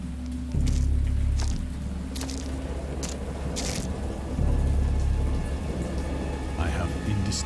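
A thunderstorm with heavy rain, low rumbling thunder rolling in swells beneath a steady dense hiss of rain, with some crackling surface noise and faint voices mixed in.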